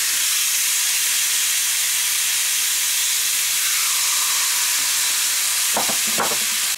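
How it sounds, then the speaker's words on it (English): Meat sizzles hard in a very hot griddle pan, a loud, steady hiss filling the whole stretch, with a couple of brief knocks near the end. "Nice sizzling sound."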